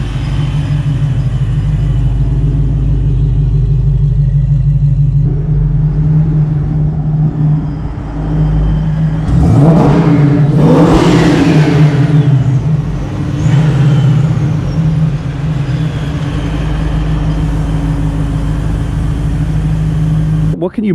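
Twin TorqStorm-supercharged V8 engine runs nearby with a loud steady low rumble, swelling into a brief rev around the middle before settling back to a strong idle.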